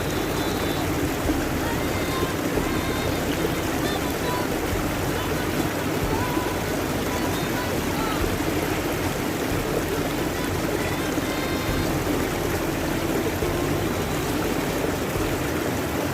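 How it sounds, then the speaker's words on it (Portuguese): Clear, pure running water flows steadily on a farm, a continuous broadband rush of stream-like gurgling and trickling that stays loud and even throughout with no break. "Olha a água pura e cristalina"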